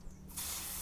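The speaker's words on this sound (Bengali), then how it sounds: "কুচানো পেঁয়াজ দেব" Chopped onion drops into hot oil with a sudden loud sizzle that bursts in partway through and holds as a steady bright hiss.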